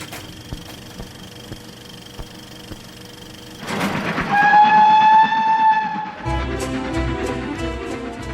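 The Flying Scotsman steam locomotive rolls past near London's Marylebone Station, with steady rail rumble and clatter followed by a loud, sustained whistle, then heavier chuffing and wheel noise.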